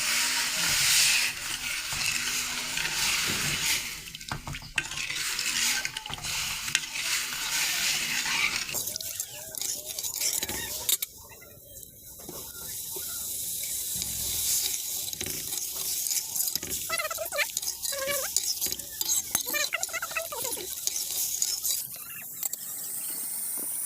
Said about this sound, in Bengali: চিনিটা দিয়ে আমরা শিরা করে নেব।